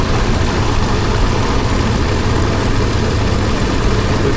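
An Infiniti QX56 engine idles steadily after starting, a loud, even, low rumble with a constant drone and no talking over it.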